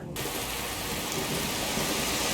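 Heavy rain and rumbling thunder in the game Skyrim, a dense, loud, steady downpour hiss with low thunder underneath, starting abruptly and continuing without voices.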